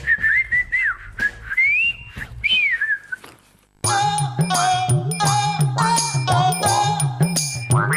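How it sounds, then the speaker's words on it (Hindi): A person whistles through pursed lips, first a short wavering tune and then a louder run of repeated whistled notes over a rhythmic backing. "सीटी बजा के बोल।"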